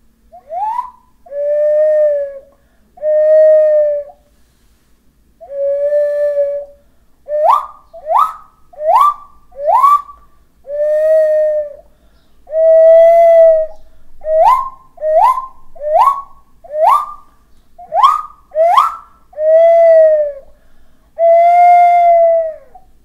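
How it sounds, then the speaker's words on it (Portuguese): An indigenous whistle without a sound box, blown with nose and mouth together, plays a long series of clear, loud tones alone: steady sustained notes alternating with quick bursts of rapidly rising slides, with short pauses between. "este outro apito que é muito diferente, pois ele não tem aquela caixa acústica como os outros têm, e ele é soprado do nariz junto com a boca"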